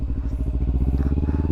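A Kawasaki Ninja 300 motorcycle engine idles close by in a steady, even pulse while the rider works the clutch, with no talk over it.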